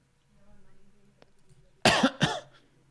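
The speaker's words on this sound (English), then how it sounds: "Yeah, just cough at the end." Two sharp, close coughs burst out after a quiet stretch with faint murmuring.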